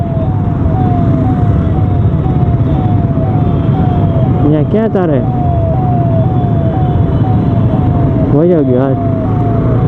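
An ambulance siren wails in a repeating rising-and-falling pattern through dense road traffic, close and loud over engine noise, while people talk nearby from a motorbike.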